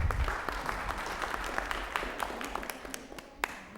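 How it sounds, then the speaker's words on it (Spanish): Audience applause at a training session for public deliberation contest judges: moderate clapping from a small group, fairly soft and somewhat distant, with individual claps audible and the applause thinning toward the end. "Aplauso."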